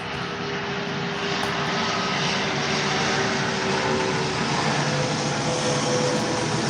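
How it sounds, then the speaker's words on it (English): A steady airplane engine roar drones overhead throughout, broad and continuous with no breaks, loud and unchanging, no voices present. "There's an airplane."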